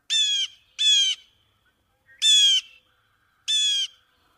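Blue jay calls in Brooklyn, New York City: four loud, harsh, nasal squawks, two in quick succession, then a pause and two more spaced apart, clear and close with silence between and no talk.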